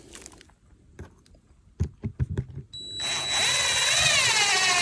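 A power drill drives screws into a plastic septic tank riser: scattered clicks and knocks first, then a sustained whining drill run that holds steady and loud to the end, close by.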